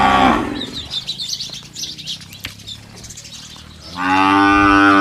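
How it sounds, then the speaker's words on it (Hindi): Cows low loudly and close by at a cow shelter, with long moos at the start and end and fainter animal calls, birdsong and wing flaps in between. "ये गायों की आवाज़ आप सुन पा रहे हो"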